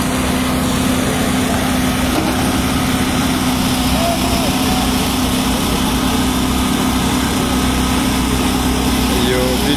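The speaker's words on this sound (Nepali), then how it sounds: "मेसिन आएको छ।" A road machine's engine runs continuously on a hillside highway, a loud steady idle-like drone with a humming low tone that stays constant throughout.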